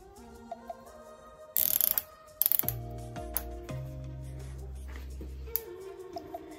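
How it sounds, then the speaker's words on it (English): Tightening bolts while fitting Shimano hydraulic brakes to an SE Beastmode bike gives sparse clicks and ticks, then a couple of sharp metallic clatters and scrapes, followed by low, sustained creaking tones from the parts being worked. "so we can just tighten it a bit more"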